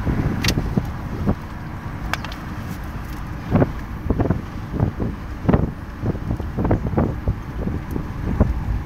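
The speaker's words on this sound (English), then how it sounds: "Oh, sorry, the wind." Wind gusts buffet a microphone outdoors, producing low rumbling bursts that come and go irregularly, loud and close, with no speech over them.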